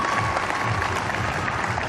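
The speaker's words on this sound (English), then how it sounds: "give a big round of applause one more time, please, ladies and gentlemen." Spectators at a STIHL Timbersports competition in Australia give steady, dense applause, a loud crowd clapping continuously throughout.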